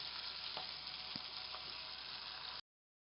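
Chicken pieces dropped into spice paste frying in oil for a potato chicken curry, a steady close sizzle with a couple of soft knocks, cutting off abruptly.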